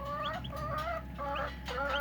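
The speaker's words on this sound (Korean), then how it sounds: "조그만 병아리가 지금 오히려 가서 쪼네요" Tiny Serama chickens and young silkie chicks cluck and peep in a series of short, high chirping calls over a steady low background hum, moderately close.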